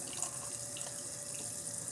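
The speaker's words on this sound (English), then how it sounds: "I can use a small funnel and tubing to fill the system with water" Water poured through a small funnel and tubing to fill the cooling system of a Stirling engine bike, a steady trickling, splashing flow heard up close and continuous throughout.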